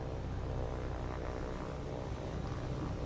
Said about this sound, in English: Can you imagine flying one of these planes?